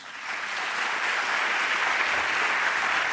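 Audience applause at a European Statistics Day 2024 event, swelling in after a brief quiet start into a steady, even wash of clapping that holds to the end.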